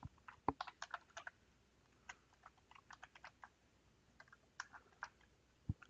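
Windows login credentials typed on a computer keyboard: quiet, irregular bursts of crisp key clicks separated by short pauses, close by and alone.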